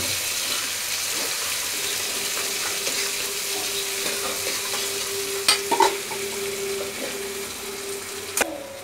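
Onions with long-cut green and red chilies sizzle in hot oil alongside golden garlic, a steady close frying hiss broken by a few sharp spoon clinks near the end.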